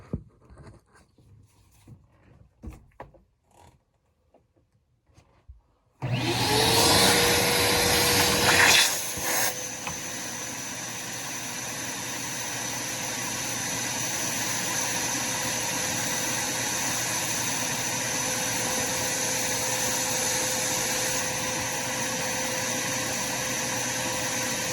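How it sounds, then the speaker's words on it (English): A shop vacuum starts abruptly and runs steadily, loud and close, with a hissing rush of air as it sucks water through the condensate drain of a Carrier Ultra Low NOx furnace during maintenance; the note shifts slightly as suction changes. "And then we're gonna just flush this out with the vacuum."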